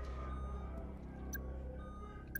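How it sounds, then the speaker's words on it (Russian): Electronic beeping in the horror game Get Even, short high tones recurring against a steady low droning ambience, with no talking. "Опять пикает."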